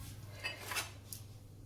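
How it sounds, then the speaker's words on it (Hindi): Dishes being washed in a home kitchen after tea and breakfast, with a few soft clinks of pots and cutlery against a steady low hum, fairly faint, with no talking. "अभी पहले करेंगे बर्तन साफ"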